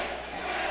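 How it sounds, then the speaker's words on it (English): A crowd roaring behind a hometown fighter at an MMA event, a dense, sustained wash of cheering voices that holds steady through a brief moment. "As the crowd gets behind the hometown fighter"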